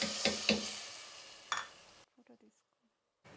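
Hot tempering of cumin, dried round red chillies, asafoetida and curry leaves goes into sambar, giving a few quick sizzling bursts and clinks before falling quiet, with faint kitchen sounds after.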